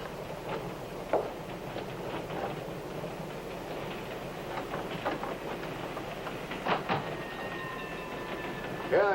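A train rolls steadily along the tracks, with a low rumble and faint rhythmic clacks, plus a few sharper clicks and a brief squeal near the end.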